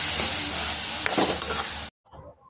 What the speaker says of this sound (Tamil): இனி இதை நல்லா கலந்துடுவோம்